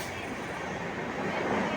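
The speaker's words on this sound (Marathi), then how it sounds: "आता आमची पण ट्रेन चालेल." Mumbai local train at Virar station gives off a steady, dense rumble of rail noise that swells slightly toward the end, with no clear pauses throughout.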